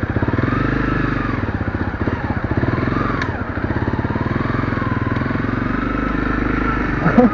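A tall motorcycle's engine runs close by with a steady, rapid throbbing idle that stays loud and even throughout, with a brief rougher burst at the end.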